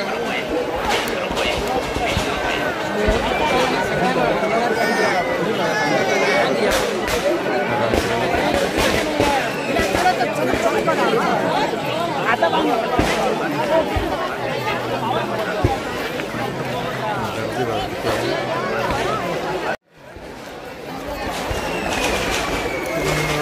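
Dense chatter from a festival crowd at an old Konkan village custom, a steady hubbub of many overlapping voices close by, with footsteps and scattered knocks; it cuts out abruptly near the end and then fades back in.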